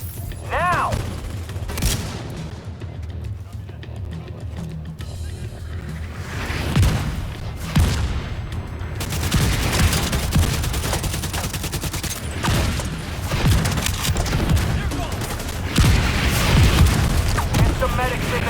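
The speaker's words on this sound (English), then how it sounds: "Mortar on my mark." A dense barrage from The Division video game: rapid gunfire and booming mortar impacts roll on without pause. The loud, crowded battle noise is layered with intermittent voice chatter.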